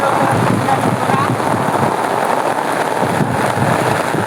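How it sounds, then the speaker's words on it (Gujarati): Heavy rain pours down steadily and loudly in Jamnagar, Gujarat, a dense continuous hiss of drops hitting surfaces close by, with no talking. "ફૂલ વરસાદ પડે છે"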